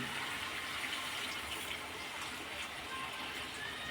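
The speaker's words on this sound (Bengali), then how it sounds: "আলুটা কষানো হয়ে গেছে মশলার সাথে, এবার জল দিয়ে দিলাম" Water pours into a pan of potatoes already cooked down with spices, a steady, soft rushing wash with no clear breaks throughout.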